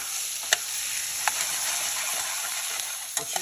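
Big chunks of peppers and onions fry and brown in a pan with a steady, even sizzle, broken by a few faint stirring clicks and scrapes.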